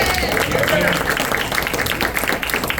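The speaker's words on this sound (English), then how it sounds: "Give Karen a round of applause" Audience applause fills a live magic show in Stillwater, a steady wash of many hands clapping at moderate volume throughout with some crowd noise mixed in.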